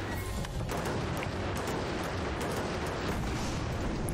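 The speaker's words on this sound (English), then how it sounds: "it's just one Gatling cannon firing at the back" Continuous heavy booming and crashing of Gatling cannon fire from airships in Airships: Conquer the Skies, a dense, loud barrage of rumbling impacts with no pauses.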